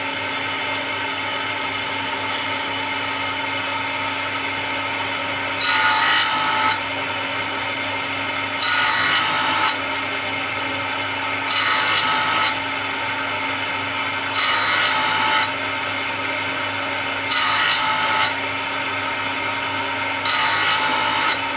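Tool and cutter grinder sharpening cutters in a workshop: a constant motor whine with six evenly spaced bursts of gritty grinding, each about a second long and roughly three seconds apart.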